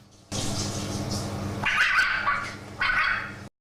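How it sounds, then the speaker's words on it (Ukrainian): A fox cub gives short, bark-like calls in two bursts over a steady background rumble, fairly close and moderately loud. "видає звуки, схожі на собачий гавкіт"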